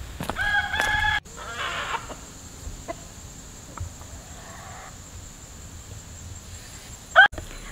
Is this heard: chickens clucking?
yes